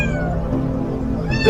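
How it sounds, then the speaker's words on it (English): A black cat gives one drawn-out meow, close and clear, lasting over a second with no other sound around it. "Black cat."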